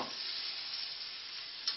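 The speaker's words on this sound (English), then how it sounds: "our fish is frying up nicely" Cajun catfish frying in a pan, a steady bright sizzle and crackle of hot oil running continuously at close range, with a small pop near the end and no voices.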